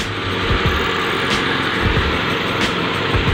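A 1996 Honda Accord engine idles steadily up close, a constant low rumble with a broad hiss above it and no talking.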